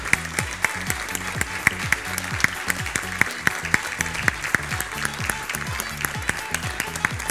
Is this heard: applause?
yes